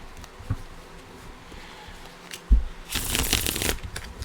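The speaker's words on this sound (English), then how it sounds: "I can fan shuffle now." Fan shuffling of playing cards: a brief light riffle early on, then a loud, dense burst of card flutter lasting under a second near the end, with no voices.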